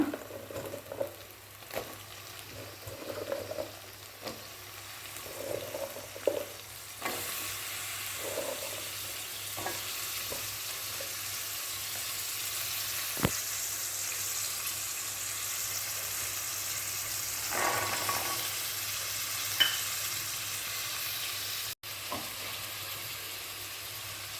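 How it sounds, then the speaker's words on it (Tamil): Vegetables frying in a pan with ginger garlic paste for a kurma curry, a steady sizzle with occasional stirring scrapes and brief clinks, heard close with no talk. "இப்போ இஞ்சி பூண்டு பேஸ்ட் நல்லா வதங்கிடுச்சு நம்ம காயெல்லாம் சேர்த்துக்கலாம்"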